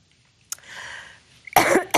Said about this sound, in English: Sorry, I am coughing here.